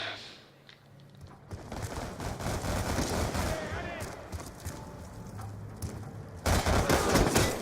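Rapid bursts of gunfire ring out in a shooter video game, a steady clatter of shots running through the clip with a louder burst near the end, under a voice talking.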